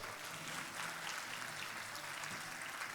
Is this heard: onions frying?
no